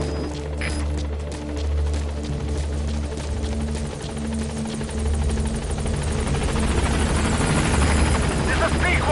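Pequod helicopter from Metal Gear Solid V arriving at a landing zone, a steady loud rotor thrum and whine building in intensity, with radio-style talk over it.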